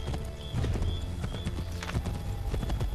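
Horse hooves from Assassin's Creed 3 clip-clop in a fast, steady gallop rhythm throughout, loud and close, with game sound around them.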